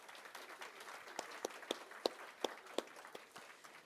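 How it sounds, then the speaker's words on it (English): Scattered applause from a modest crowd at a Women in Cyber event during Australian Cyber Week 2021, irregular claps with a few sharp louder ones, fairly distant and soft, no talking over it. "So I really want to applaud Carolyn."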